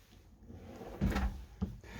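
A storage drawer in a Mercedes-based Hymer B MC T580 4x4 motorhome slides and bumps shut, two soft knocks about half a second apart in a quiet interior.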